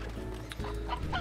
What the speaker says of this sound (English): I can hear you, chickens